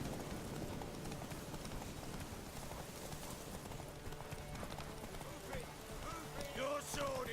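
Horse hooves clip-clop steadily in The Witcher 3, a brisk, moderately near rhythmic patter under the game's ambience, with a voice briefly speaking over it near the end.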